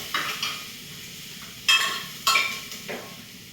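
Garlic, beans and carrots frying in a pan, with a low background sizzle punctuated by several bursts of louder crackling and spatula scraping as the vegetables are stirred.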